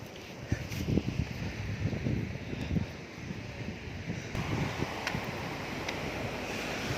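Rough sea surf rolls in along a coastline where people go fishing, a steady broadband wash of breaking waves mixed with gusty wind buffeting the microphone, continuous and moderately loud with no voices.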